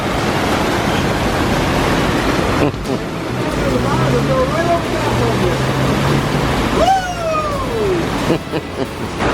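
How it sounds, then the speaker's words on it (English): Rushing stream water in a Colombian rainforest gives a loud, steady broadband roar, with brief whistling tones and a voice partly heard over it. "Colombian rainforest, huge flows of water blasting around everything"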